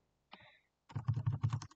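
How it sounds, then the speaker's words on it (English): A few quick key presses on a computer keyboard while playing with a Scratch ping pong game: one short tap, a pause, then a rapid run of close, crisp clicks. "up arrow key on your keyboard to make sure that it's centered"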